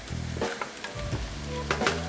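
Mushrooms and onions sauté in a pan for venison stroganoff, giving a steady, close sizzle with a few brief stirring bursts and a low tonal hum beneath.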